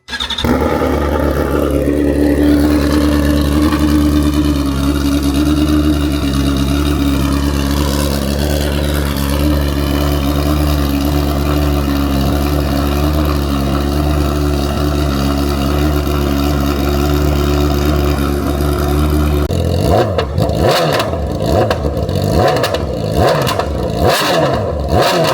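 A 2026 BMW S1000RR sportbike fitted with a cheap AliExpress exhaust idles and revs loudly and close by, a harsh, raspy drone with rising and falling pitch, then sharp crackling blips near the end; no one speaks.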